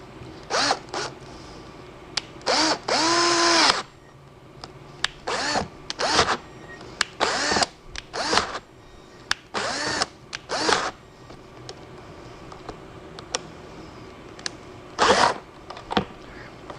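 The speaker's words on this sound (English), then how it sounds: "Probably should have stopped and got a bigger drill" A power drill bores into a door during a door replacement, heard as a series of short, loud whirring bursts close by with brief pauses between them and one longer run near the start.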